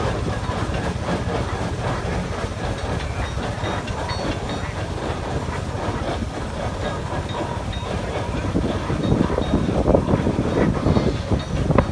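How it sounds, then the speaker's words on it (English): An old engine, kept on the grounds since 1956, runs in the Rollag steam threshers' parade with a continuous close rumbling chug that grows slightly louder toward the end, no voices heard. "This engine's been here since 1956."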